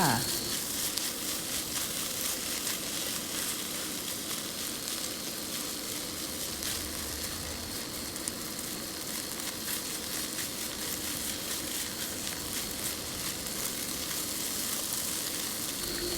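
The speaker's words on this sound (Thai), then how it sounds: "เอามา ผัดแบบนี้ก็กลายเป็นข้าวผัดกะเพราได้ค่ะ" Refrigerated rice stir-fried with holy basil in a pan, a steady loud sizzle with occasional scraping stirs throughout, no talk over it.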